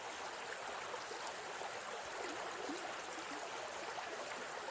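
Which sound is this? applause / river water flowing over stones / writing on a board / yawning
river water flowing over stones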